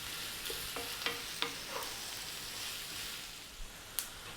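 Onions frying in a pan just above medium heat, a steady soft sizzle with a few scraping stirs of a utensil, fairly quiet and close with no talking.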